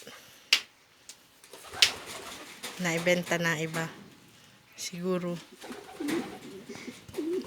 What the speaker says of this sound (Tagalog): Ito ang kanyang mga kalapati.